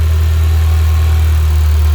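The 2-liter turbocharged inline four-cylinder of a 2011 Mitsubishi Lancer Evolution GSR with a cold air intake idles close up, a loud, steady low rumble with an even throb and no voices.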